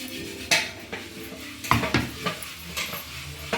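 Ground masala being added to a pot of simmering Mangalore cucumber and black-eyed bean huli and stirred, with a spoon clanking and scraping against the metal pot in irregular knocks over a faint sizzle.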